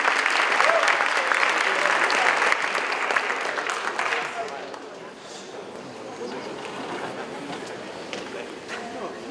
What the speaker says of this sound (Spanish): Recibamos con un fuerte aplauso al profe Sang